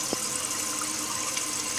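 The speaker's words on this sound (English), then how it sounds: "a full flush on the outside handle and see how much water drops" A toilet fitted with a dual flush valve gives a full flush, tank water rushing and draining in a loud steady close wash with no talking.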